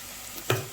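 Onion-coconut paste frying in oil in a pan, a faint background sizzle broken by one short, sharp scrape of a spatula.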